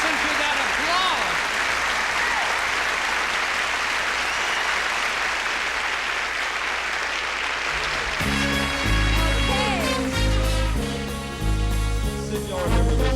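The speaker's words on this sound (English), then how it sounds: "Listen to that applause" Audience applause at a 1982 touring live show, a loud sustained wash of clapping that gives way to the band striking up music while it fades.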